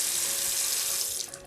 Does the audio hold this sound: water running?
yes